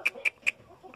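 A young Asil rooster, one of the stud gamecocks in a cockpit pen, gives three quick sharp clucks in close succession, followed by softer faint calls.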